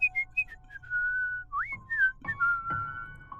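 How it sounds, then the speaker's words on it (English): Someone whistles a short melodic tune alone, with clear sliding and held notes, fairly soft and close. "I started to hear a whistling sound that was coming from the other side of the hallway."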